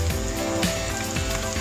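Scallion rings frying in hot oil while being stirred, a steady dense sizzle with faint scraping of the stirring utensil, close and continuous throughout.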